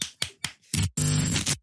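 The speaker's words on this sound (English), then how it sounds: "Can we just clap, please? Because I just need to just clap" A few sharp hand claps ring out one at a time close by, followed by a louder, longer burst of rapid clapping that fades out at the end.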